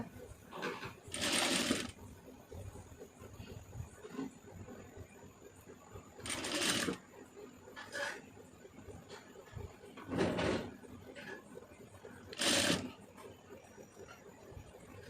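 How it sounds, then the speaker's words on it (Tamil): A sewing machine stitching the neckline of a white and blue blouse runs in several short bursts of rapid whirring, close up, separated by quiet pauses with soft handling noises. "அதை கரெக்டாக அப்படியே மடக்கி விட்டு இதில் தையல் போட்டுருங்க"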